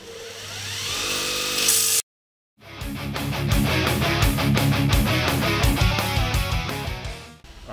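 A power sander works a metal tube front on a Blown Crown build, running loud and steady with a harsh whirring tone, broken by a brief pause before it starts up again and grinds on.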